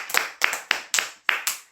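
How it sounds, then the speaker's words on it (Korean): Church congregation clapping in unison during a service, six sharp, evenly spaced collective claps ringing out loudly in a steady rhythm with a short room echo after each. "하나님께 영광의 박수 한번 올립시다."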